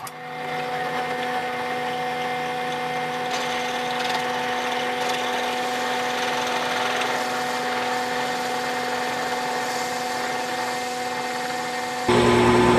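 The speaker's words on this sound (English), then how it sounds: "back over to the drill press, and we'll drill the hole" A drill press whirs steadily for several seconds, its motor holding a constant loud drone as the bit bores a hole, with a brief shift near the end, during an EMPI EZR shifter refurbishment for a 1969 VW Beetle.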